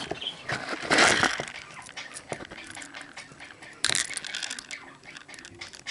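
Screws from a Lockwood 334 lock tipped into a small container, a quick cluster of metallic rattles and clinks followed by another brief rattle, with a faint television murmur behind.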